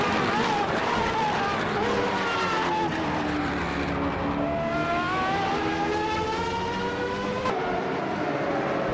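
A Lancia LC2E race car roars through a racing video game, its engine a loud, sustained whine that climbs and dips in pitch, with an abrupt change near the end as it shifts.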